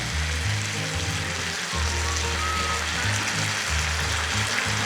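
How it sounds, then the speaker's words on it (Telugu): Oil sizzles steadily as Schezwan sauce goes into frying Apollo chicken for a Hyderabadi street-style dish, a loud, continuous crackle with a low stove hum beneath and no talking. "ఒక్క 2 టేబుల్ స్పూన్స్ షెజ్వాన్ సాస్ వేద్దాం"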